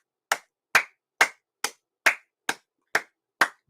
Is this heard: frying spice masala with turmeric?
no